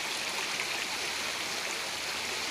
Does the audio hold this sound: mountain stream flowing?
yes